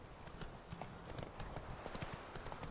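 Quick rhythmic hoofbeats of a galloping horse in The Witcher 3, near and steady throughout, layered over a soft outdoor ambience.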